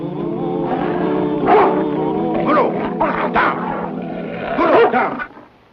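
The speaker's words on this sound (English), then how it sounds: "That's a real fine bear dog you got there, Huntsman." A bear hunting dog in a classic action drama barks and whimpers loudly and close by, with yelping, whining cries rising in bursts before trailing off.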